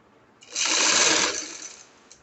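A sewing machine runs a single burst of loose basting stitches on fabric for an angrakha frock, a close, fast whirring run lasting about a second before stopping.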